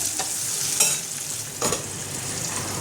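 Potatoes lightly frying in a pan for khichuri, a steady close sizzle with a few scraping stirs of a spoon cutting through the hiss.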